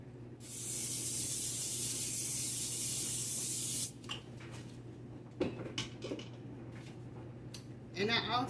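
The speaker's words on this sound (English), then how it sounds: "Now this sheet pen, I'm gonna spray it down" Cooking spray hisses in one steady burst of about three seconds onto a small sheet pan, followed by soft clatter and handling sounds.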